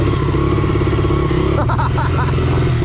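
A carbureted motorcycle engine idles and revs nearby in a city park, a loud, uneven rumbling putter with a rough change in pitch partway through, and voices murmur underneath.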